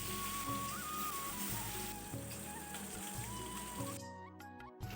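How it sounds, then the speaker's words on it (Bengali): Snakehead fish rubbed with salt and turmeric sizzles in hot oil, a steady broadband hiss and crackle over a faint tonal background, thinning out near the end. "তেল গরম হয়ে গেছে, এবার নুন হলুদ মাখানো মাছটা দিয়ে দেবো"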